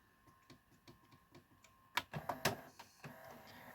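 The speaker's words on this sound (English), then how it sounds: "in the end it just ejects the tape" An Akai VS-G745 HiFi VHS recorder's mechanism ticks and clicks quietly, then whirs and clunks in a louder burst of mechanical clatter as it ejects the tape.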